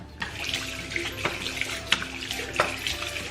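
Tap water runs into a sink while a face is washed, a steady close rush broken by several sharp splashes as hands scoop and rub.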